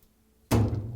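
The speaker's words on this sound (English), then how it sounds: "install the front panel on the bottom hinges" A dishwasher front panel is pushed onto its bottom hinges with a single close, dull thunk that rings out briefly, after near silence.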